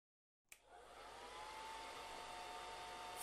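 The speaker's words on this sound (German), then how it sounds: "Ich föhne die Haare mit dem neuen Föhn." A new hair dryer switches on and blows steadily, a continuous close whooshing hum with a faint whine that holds for about three seconds, with no voices.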